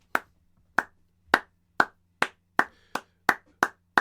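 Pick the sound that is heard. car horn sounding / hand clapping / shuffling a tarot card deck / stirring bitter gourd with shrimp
hand clapping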